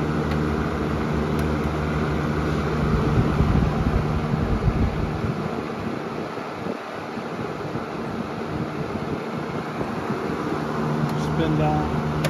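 A Patton box fan with a rotating grill winds down after running, a steady broadband whoosh with a low hum that gradually thins and slows, close and fairly loud throughout.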